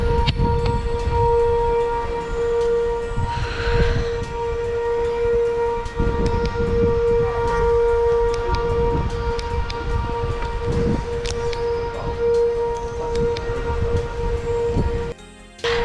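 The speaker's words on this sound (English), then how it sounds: "I know you can hear the tornado sirens" Tornado warning sirens wail at night in Marietta, Oklahoma during a storm, a loud sustained steady tone running unbroken for the full length over rumbling wind.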